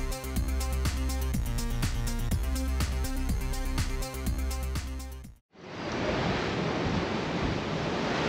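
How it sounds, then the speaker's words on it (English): Strong wind of about 40 mph buffets the microphone on the open deck of a Carnival Celebration cruise ship at sea, first under a rhythmic thumping music-like pattern, then after a brief dropout as a loud, steady, broadband roar. "Because it's 40 mile per hour winds right now."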